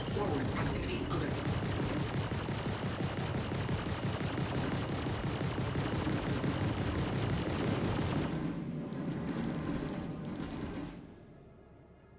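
Rapid machine-gun fire rakes the player's Valkyrie ship in Star Citizen, a loud, dense stream of shots for about eight seconds before thinning into scattered bursts and then fading away.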